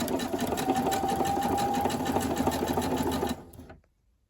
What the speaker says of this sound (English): I've folded my elastic over and I'm stitching it down and I'm keeping the end of the channeling right out of the way